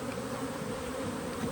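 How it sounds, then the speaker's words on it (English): Honeybees swarm around an opened hive during a beekeeping inspection, their dense, continuous buzzing filling the air steadily and fairly close, with no voices. "Way more bees in this one."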